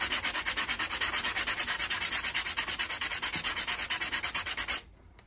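Rusty bodywork on a Jaguar XJ6 is sanded by hand to remove loose rust, a loud close rhythmic rasp of quick back-and-forth strokes that stops abruptly near the end.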